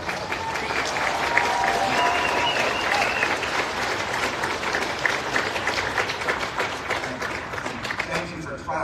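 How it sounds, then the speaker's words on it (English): Large audience at a motivational event breaking into loud, sustained applause and clapping, a thick continuous roar of hands with crowd noise mixed in, steady throughout and easing a little near the end. "Thank you for clapping."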